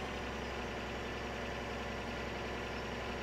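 A tractor engine idles in Farming Simulator 17, a steady, dense mechanical drone with low rumble and constant texture, unchanging and without speech throughout.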